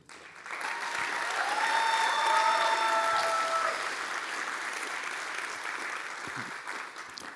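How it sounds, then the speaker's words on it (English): Audience applause fills a jazz concert hall, a dense sustained clapping that swells in the first seconds, holds, then eases slightly while continuing steadily, with a few whistles and cheers rising above it. "by your applause and your reception"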